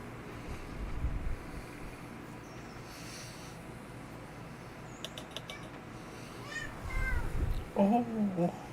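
Cat in the game Railroader gives a few short, thin meows near the end, rising over low rumbling ambience and scattered mechanical clanks, with soft talk nearby.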